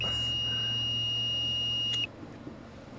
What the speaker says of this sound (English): Beeper still sucks.